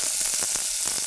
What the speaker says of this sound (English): Take a spoon, and we're gonna brown our mirepoix.